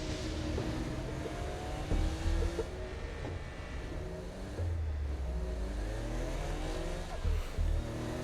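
A car driven through Hell in Saints Row: Gat Out Of Hell, engine droning steadily with revving pitch sweeps rising and falling, low thumps and occasional tire noise over several seconds at moderate level, no talk.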